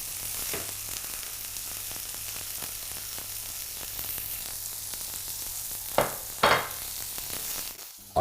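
Veal slices searing in a pan for saltimbocca, a continuous bright sizzle with faint scrapes and a couple of louder bursts near the end, close and steady, no one speaking.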